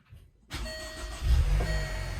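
A Range Rover Evoque engine cranks and catches after a brief quiet moment, then settles into a steady close idle with a small rev swell.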